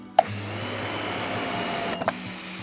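A pressure washer hisses steadily as it sprays water over a dirt bike, with a sharp click as the trigger starts it and another click and pause near the end.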